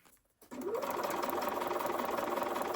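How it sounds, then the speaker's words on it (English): A sewing machine runs steadily, stitching the last seam of a foundation paper pieced block. A brief quiet start gives way to a continuous close, even motor whir with needle clatter. "We're now going to sew this last seam."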